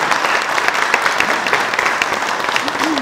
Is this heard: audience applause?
yes